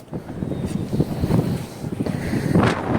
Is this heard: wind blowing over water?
yes